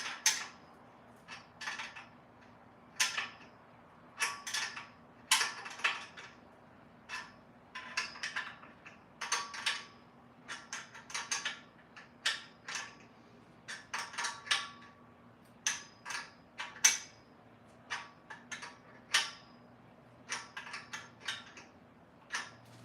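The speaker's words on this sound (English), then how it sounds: "So what I'm doing right now is I'm tightening the top bolts." Top bolts on a Bongkim pull-up bar being tightened, producing irregular bursts of close metallic ratcheting clicks and creaks separated by short pauses over a faint steady hum.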